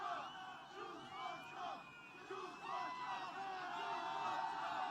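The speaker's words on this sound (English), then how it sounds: "Rowdy crowd, isn't it" A rowdy political rally crowd in Scranton, Pennsylvania cheers and whoops continuously, a dense wash of distant voices with rising shouts.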